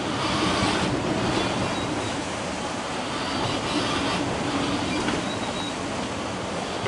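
Rough, stormy open sea with 5 m breaking waves at 23 knots of wind, a sailing boat under reefed sail on passage to Gibraltar: a loud, continuous roar of surf and rushing wind with no talk.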